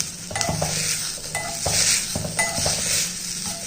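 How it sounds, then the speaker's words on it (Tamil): Coriander leaves are tossed in a hot pan with the gas switched off, giving gentle sizzling under repeated scraping and clinking strokes of a spatula against the metal, close and moderately loud. "ஆஃப் பண்ணிவிட்டு இதை அப்படி அந்த சூட்டில் லைட்டாக வதக்கிக்கிடுவோம்"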